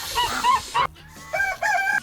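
Geese honk and yell loudly at close range at an animal sanctuary, harsh overlapping cries in bursts with a short pause midway.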